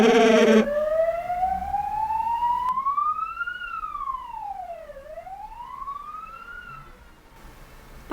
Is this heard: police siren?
yes